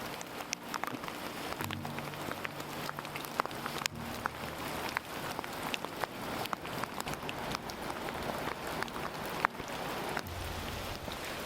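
Steady rain patters at a campsite on the West Coast Trail, heard from inside a tent as a continuous soft hiss with occasional louder drops, and no voices.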